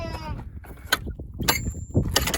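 A short sheep bleat rings out at the start, followed by scattered thumps and rustling movement, fairly close, on the Pennine Bridleway.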